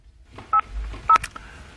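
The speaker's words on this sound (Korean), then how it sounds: "나참 전화 좀 할게" Two short telephone keypad tones beep in quick succession, clear and close in a quiet room, followed by a faint soft rustle.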